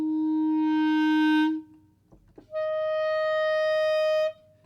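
Two sustained clarinet notes, the first swelling then fading, a short pause with a faint click, then a second higher note held steady.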